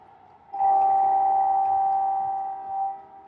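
A model train whistle sounds one long, steady, clear tone for a little over two seconds, loud and close, with no talking.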